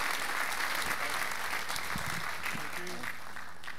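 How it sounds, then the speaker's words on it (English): An audience applauds as a participant walks onto the stage at an evening event, sustained close clapping with a few faint voices and murmurs underneath near the end. "So first, Damien Foxhall, could you please come on the stage and round of applause."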